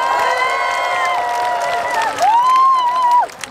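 Concert audience at an outdoor trot music event applauding and cheering loudly and steadily, with sustained crowd noise and a rising shout swell near the end.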